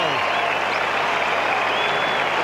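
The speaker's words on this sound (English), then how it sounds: "has the rafters ringing with applause for scoring the try" A stadium crowd applauds a rugby try in a 1989 Auckland versus Argentina test match, producing a dense, steady wash of clapping and crowd noise with a faint tonal whistle above it and no pause.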